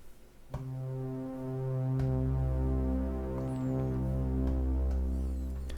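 A slow, swelling synthesizer pad from a Korg Multi/Poly or Modwave, Blade Runner style, with layered sustained tones, building after a soft start into a steady, warm chord that holds without a break.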